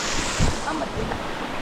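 Water rushes down the rocks at Madassery Waterfalls in a broad, continuous roar, loud and close with wind buffeting the microphone.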